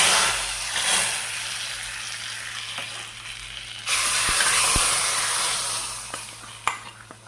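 A tempering of mustard seeds, dried chillies and coconut oil is poured into a jackfruit-seed and mango curry, bursting into a loud sizzle that swells and then fades, with a few utensil clinks and no speech.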